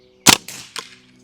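Three sharp airsoft gun shots in quick succession, close and crisp, each a snappy crack with a short tail, the first loudest.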